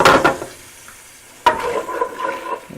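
Sausage frying in a pan for biscuits and gravy is stirred: a short sizzling burst, a quieter pause, then loud, continuous close-up sizzling and scraping.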